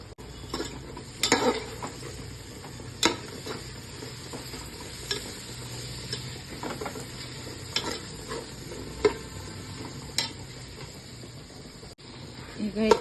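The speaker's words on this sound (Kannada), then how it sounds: "ಈಗ ಹಸಿಮೆಣಸಿನ್ಕಾಯಿ, ಪುದೀನ ಮತ್ತು ಕೊತ್ತಂಬರಿ ಹಾಕ್ಕೊಳ್ಳೋಣ" Green chillies, mint and coriander frying in a pan for Ambur chicken biryani give a low, steady sizzle, broken by scattered sharp clinks and scrapes of stirring throughout.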